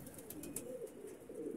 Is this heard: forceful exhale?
no